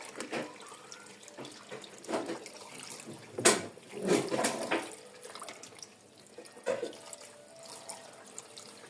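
Tap water splashes and gushes in uneven bursts while being added for a white 90° laundry wash with Ariel Pro powder, with drips and sloshing between louder pours.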